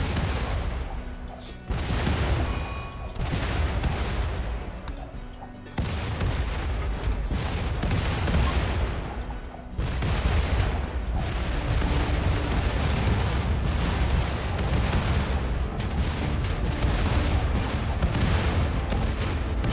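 Grenade explosions and gunfire in the RimWorld video game, a dense, loud run of blasts and rapid shots with brief lulls, continuing almost without pause.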